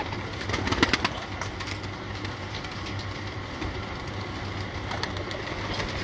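Pigeons coo softly and steadily at a rooftop loft, a faint, low, rolling murmur with no voices.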